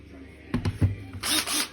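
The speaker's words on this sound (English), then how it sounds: "When you're drilling like this on an angle, you need to start the drill bit" Short bursts of a small power drill whir up close as it bores at an angle into a handmade fishing lure, two quick pulses and then a longer higher-pitched run.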